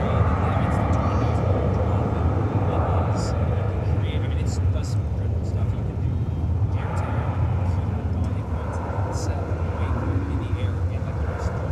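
Airplane departing from DFW Airport produces a steady, broad jet roar that holds throughout, heard from a distance under light background noise.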